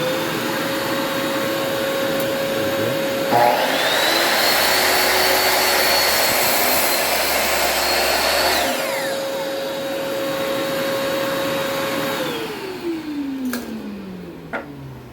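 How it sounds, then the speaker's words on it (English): Shop vacuum used for dust collection on a miter saw, whining loudly and steadily at close range, its pitch rising as it spins up and sliding down as it winds off near the end, with no talking. "I'm gonna have to turn my vacuum"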